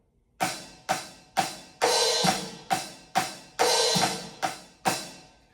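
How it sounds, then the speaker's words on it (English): Ten sharp metallic electronic drum hi-hat strikes played with the foot pedal at a steady pace, each ringing briefly before cutting off, some sustaining a little longer, close and alone. "And the hi-hat sounds like this, if you use the foot pedal."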